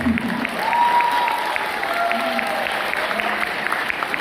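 Applause from an audience at a product presentation event, a sustained wash of clapping hands heard at moderate distance, with a sustained tone ringing over it and faint voices underneath.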